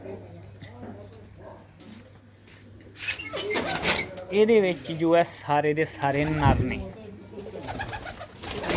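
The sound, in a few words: large male pigeons cooing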